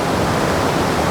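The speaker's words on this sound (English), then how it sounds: "Again, shooting the waterfall" A Wisconsin waterfall running high with spring water gives a steady, full rushing roar, close and constant for about a second.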